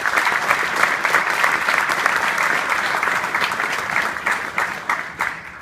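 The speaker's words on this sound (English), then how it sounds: "give yourselves another round of applause for that." Loud sustained applause from an audience at a governor's closing remarks, dense and even at first, then thinning into separate claps as it fades out.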